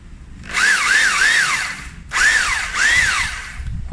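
An INGCO 3-function rotary hammer drill runs in two loud bursts, close up, with a rising and falling whine as the motor spins up and cycles.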